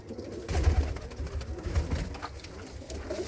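Several racing pigeons at a Gurdaspur loft give a steady, rolling coo, overlapping low calls repeating close by with a faint background hum and no talk.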